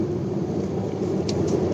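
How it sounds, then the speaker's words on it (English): Tata Altroz diesel car rolling over a rutted road section, a steady low cabin rumble of engine and road noise with faint rattles near the end, no talk. "I'm driving on a rutted stretch section now"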